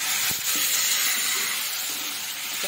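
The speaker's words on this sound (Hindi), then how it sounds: "तो टमाटर को डालकर मैं इसमें भून लूंगी" Tomatoes fry with kasuri methi over a high flame for dhaba-style bhindi masala, giving a steady, close, bright sizzle that hisses on without pause, with a few faint stirring knocks early on.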